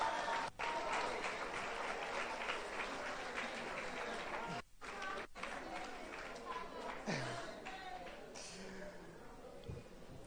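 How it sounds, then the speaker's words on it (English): A large audience at a secondary school graduation ceremony applauds the graduating class, steady dense clapping filling the hall with crowd noise, briefly dipping before continuing. "Can we have another applause for the graduating class?"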